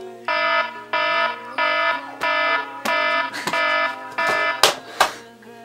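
An alarm clock rings in repeated loud, even bursts, about eight in a row, with sharp slapping hits cutting in toward the end.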